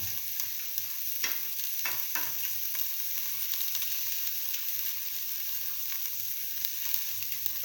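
Ginger sizzles in a hot pan for a mung bean tomato stew, a steady dense frying hiss with a few scraping stirs near the start and no talk.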